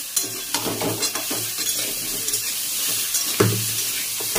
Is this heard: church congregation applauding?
no